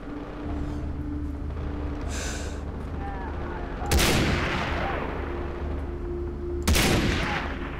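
Gunshots in Far Cry 3, two sharp loud cracks a few seconds apart over steady game ambience, with a faint gasp between them.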